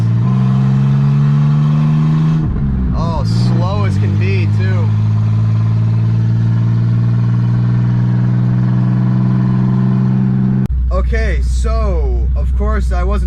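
A loud BMW E12 engine runs with a deep, steady drone heard from inside the car, its pitch shifting slightly partway through, while someone talks over it.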